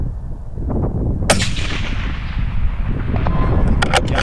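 A rifle fired from a rooftop at a target 465 yards away gives one loud, sharp report that rolls into a long echo, heard alone with a few fainter cracks toward the end.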